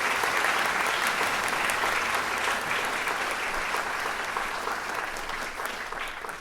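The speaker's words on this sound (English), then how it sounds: "One more round of applause for these amazing young musicians" Audience at a University High School fall band concert applauding the symphonic band, a broad, steady round of clapping that slowly tapers off.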